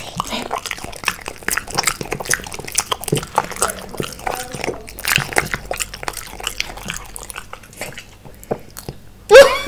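A French bulldog puppy chews a small piece of cucumber close up, giving a quick run of wet crunching and biting clicks that lasts throughout, with a few soft voice sounds mixed in.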